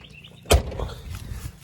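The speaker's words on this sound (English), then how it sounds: "door closes nicely." A single solid thunk of an old V8 pickup truck door shutting, near and abrupt, followed by faint rattling and a quiet background.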